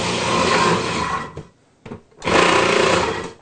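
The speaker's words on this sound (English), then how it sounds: "run it through the grater on my food processor" A food processor grates chunks of kohlrabi: a loud, whirring motor drone with a chattering grind that stops briefly, gives a short blip, then restarts at full roar.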